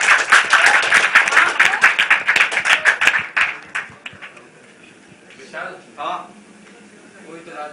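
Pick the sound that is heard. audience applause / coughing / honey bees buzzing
audience applause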